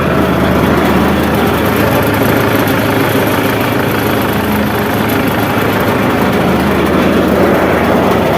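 A paddy harvesting machine runs in a rice field, its engine giving a loud, steady, rumbling drone with no breaks.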